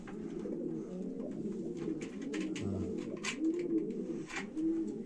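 Racing pigeons coo softly in a loft, with repeated low rolling calls layered over one another and some light rustling and faint chirps, fairly quiet and close by.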